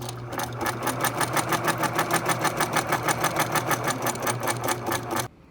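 Sewing machine stitching automotive thermal blackout fabric for a motorhome, a fast, even run of rapid needle strokes close up for about five seconds before stopping abruptly.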